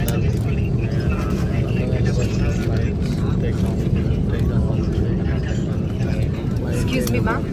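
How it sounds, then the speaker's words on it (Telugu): A passenger jet on a London-bound flight takes off, its engines a loud, steady roar from inside the cabin that holds level throughout with no other sounds breaking through. "ఫ్లైట్ టేక్ అప్ అవుతుంది"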